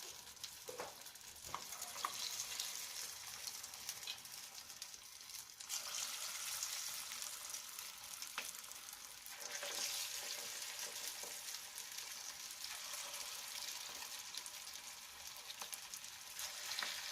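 Moong dal mangodes deep frying in hot oil, giving a steady, dense sizzle with crackling bubbles that holds throughout, close and unbroken, with no voices.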